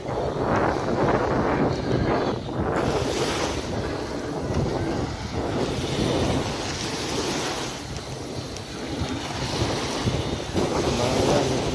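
Strong wind in Batangas, Philippines roars steadily into the microphone with buffeting gusts, mixed with the wash of water throughout.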